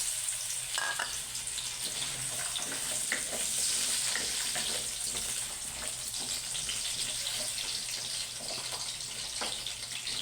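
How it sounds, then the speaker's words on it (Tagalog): Sweet potato frying in a pan gives a steady, close hiss of sizzling oil that runs unbroken and alone, with faint scraping and stirring now and then. "Prito na natin yung ating sweet potato."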